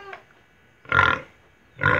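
A large javaporco, a wild boar and domestic pig hybrid, lets out a faint short sound and then two loud, close, rough grunts, each lasting about a third of a second, separated by a brief pause.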